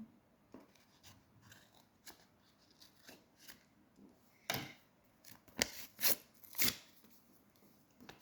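Scissors snip through paper in a series of short crisp cuts, the last few louder and closer, with no one speaking.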